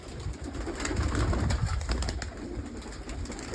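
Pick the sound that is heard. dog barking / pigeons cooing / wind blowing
pigeons cooing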